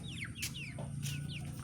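Chickens cluck and chirp in short repeated calls, with a few higher squawks over a low background hum outdoors before rain.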